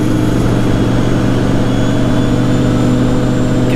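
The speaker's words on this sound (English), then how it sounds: "Can you guys hear that turbo spooling?" A car engine with a turbo spooling, at about 3,000 RPM on a hilly town road during bouts of power loss, makes a loud, close, continuous drone with a faint high whine running through it and no talking.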